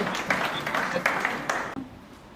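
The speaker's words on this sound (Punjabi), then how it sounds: "ਤਾੜੀਆਂ ਦਵਾਓ" Applause from an audience at a Punjabi college student comedy show: a dense, steady patter of many hands that fades out after about two seconds.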